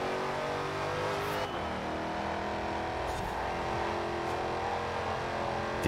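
A Dodge Hellcat's supercharged V8 roars steadily in Forza Horizon 4, holding a loud, sustained engine drone with a few shifts and brief tire squeals, close up and with no talking.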